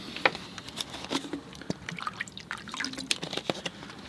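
Fresh clean water trickling and dripping into a container while preparing to mix watercolor paints, with scattered small drips and splashes, fairly close and quiet.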